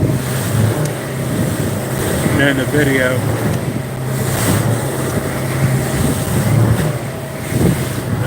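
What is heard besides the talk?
1720 Keywest boat motoring in from offshore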